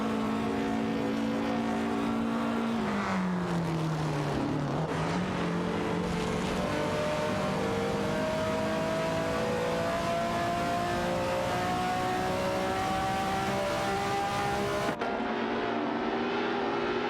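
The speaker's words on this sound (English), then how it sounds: "It's a classic showdown of vintage cars on the track." Vintage race cars roar around a track, engines droning loud and steady with a pitch that dips then climbs as the cars accelerate, a continuous mechanical whine throughout.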